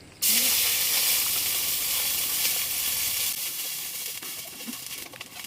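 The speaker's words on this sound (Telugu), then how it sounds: "1 లీటర్ అన్ని నీళ్లు పోసుకోరి" Water goes into a hot pot of masala chicken for dum biryani and sets off a loud, sudden sizzle that settles into a steady steamy hiss lasting several seconds, with no talking.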